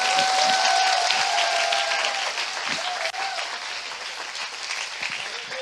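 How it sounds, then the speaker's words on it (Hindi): Church congregation clapping for Jesus in a worship service, a loud even burst of applause that gradually tapers off, with faint voices mixed in. "क्या हम यीशु के लिए ताली बजा सकते हैं?"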